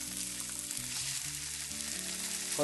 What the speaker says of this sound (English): And we're just going to sear that salmon.